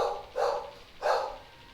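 Two sharp dog barks ring out close by, about half a second apart, with a quiet pause between them and no talking.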